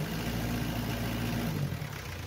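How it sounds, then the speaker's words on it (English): A car engine hums steadily up close while being revved during an oil catch can check, a loud continuous mechanical drone that eases slightly toward the end. "even if I rev the engine"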